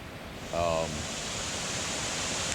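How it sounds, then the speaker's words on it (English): A small waterfall beside a trail makes a steady, loud, close rushing hiss that fills the clip, and a voice is heard briefly near the start. "I'd forgotten about this little waterfall being here"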